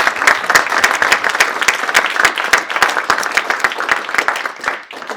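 An audience applauding at a space technology awards ceremony, with many individual claps standing out sharply from a fairly close, lively burst that tapers off at the end.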